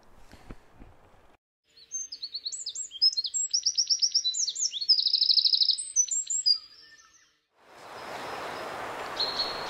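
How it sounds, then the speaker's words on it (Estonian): A Eurasian wren sings a loud, rapid trilling song of high chirps and rattles outdoors in spring, with a European robin nearby, close and clear, followed by a rushing burst of wind or rain noise. "Lisaks käblikule on siinsamas laulmas ka punarind"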